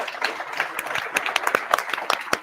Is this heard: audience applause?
yes